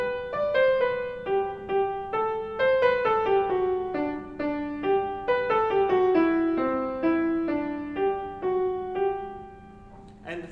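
The folk tune The Ash Grove played on a sustained keyboard-like instrument, notes rising and falling steadily in a gentle, even rhythm, with no voices.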